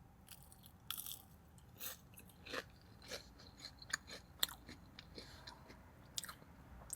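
Crispy Sonic crinkle fries dipped in sauce being bitten and chewed up close, soft crunches and wet mastication sounds repeating at a quiet level with no talking.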